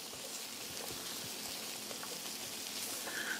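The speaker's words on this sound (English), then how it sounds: "Just sauteing that up a little bit." Ingredients for Manhattan clam chowder sauteing in a pan, a steady soft sizzle running evenly throughout with faint crackles and no voices.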